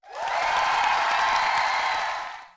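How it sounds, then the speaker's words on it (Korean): Studio audience bursts into loud, sustained applause with cheering and whoops, steady for about two and a half seconds before tapering off, on a Korean talk podcast returning for its second segment. "열띤 환호 감사합니다"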